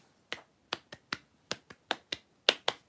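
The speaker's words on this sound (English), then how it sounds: "The doctor is now applauding." One person clapping by hand at close range, about ten sharp, separate claps in an uneven rhythm, with quiet in between and no talking.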